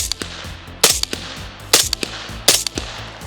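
Three sharp suppressed gunshots through an IDG Hesy SixK suppressor crack out about a second apart, each with a short echoing tail and small clicks between them.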